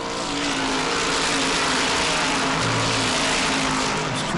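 Race cars at a short-track oval event roar past in a continuous dense engine wash, loud and close, with layered revving and no voices over it.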